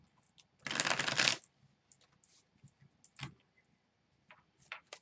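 Tarot cards get a quick riffle shuffle in one burst of under a second, followed by faint taps and slides of the cards in a quiet room.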